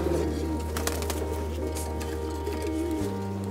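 Racing pigeons coo softly while being placed into a ground pen, a low steady hum of cooing with faint chirps, close and continuous throughout.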